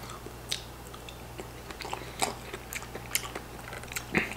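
Crunchy, wet bites and chewing on a strawberry from a lunch fruit cup, close up, coming in a few irregular bursts with no talk.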